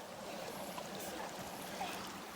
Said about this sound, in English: well, we're at the waterfall.